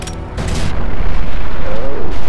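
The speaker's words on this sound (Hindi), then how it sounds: "ओके बम उड़ा दो" A bomb blast in Call of Duty: Modern Warfare 2 during a snowmobile chase mission, a loud broadband boom bursting in about a third of a second in and rumbling on heavily through the rest of the clip amid game noise.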